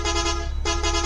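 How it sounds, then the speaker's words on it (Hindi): Truck horn fitted to a Scorpio in the Indian Theft Auto Simulator video game, two loud sustained honks with a short gap between them, alone without talk. "ये ट्रक का हॉर्न क्यों दे रहे हैं ये लोग।"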